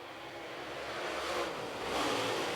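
A pack of super late model race cars accelerating off the start of a heat race at Cherokee Speedway, a dense distant engine roar that swells steadily louder.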